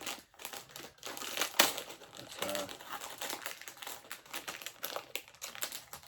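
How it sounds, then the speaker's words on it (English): Crinkly plastic rustling in short bursts as a Lego set bag is opened, close by, with a sharp crackle partway through and a brief word spoken. "all the rustling of the bag"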